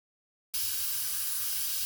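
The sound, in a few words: airbrush spraying pre-mixed mauve paint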